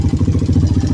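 A Suzuki Satria FU150 motorcycle engine with a rough, harsh-sounding fault runs close and loud, a throbbing pulsing drone with a rapid regular beat and some mechanical clatter as the throttle is worked.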